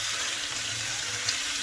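Spinach and cheese stuffed chicken fries in a pan with a steady, close sizzle that stays even and continuous throughout, with no voices over it.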